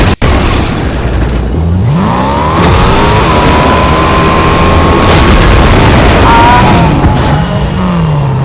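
A car in a multiplayer combat video game drives and revs loudly and continuously, its engine rising and falling in pitch, with booming explosions mixed in and faint voices under it.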